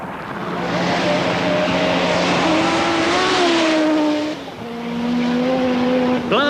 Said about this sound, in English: Blasting on in the Duckham's Toyota